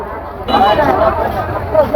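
A crowded fish market at a village haat on a rainy day gives off a busy hubbub of overlapping voices, with one nearby speaker talking loudly over the background chatter.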